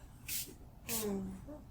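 A handheld spray bottle gives two short bright hissing spritzes close up, separated by a brief pause, with a soft voiced sound trailing after the second.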